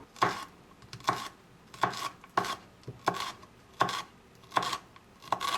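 A knife cutting a deseeded vegetable into long strips on a board for fried rice, about nine evenly spaced crisp chops each ending in a knock on the wood, close up and without talk.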